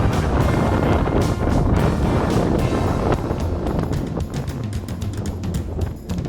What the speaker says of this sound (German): Auf der windigen Hochfläche. Wind kommt von schräg vorne.